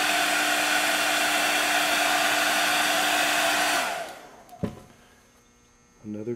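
A hair dryer blows steadily and loudly up close over stippled witch makeup, then switches off and winds down, followed by a sharp knock and faint voices.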